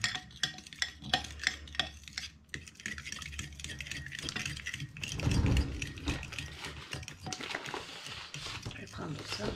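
A mixture for gel press printing being stirred: quick, scraping and clicking strokes in an irregular rhythm, close by, with someone speaking over them.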